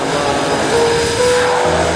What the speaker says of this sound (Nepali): सी प्लेन टक्क लगाएर अब हामी पनि यसमा जाने